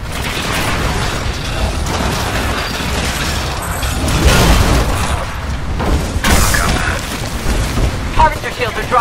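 Mortar titans firing in the Titanfall Frontier Defense mode: heavy booming blasts and rumbling impacts over mechanical clanking and whirring, with in-game voice chatter throughout.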